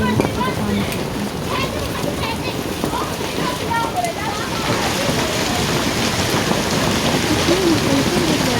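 Heavy, continuous rain falls along with snow and hail during a storm in Peshawar, making a loud, steady hiss and patter that stays dense and even from start to finish.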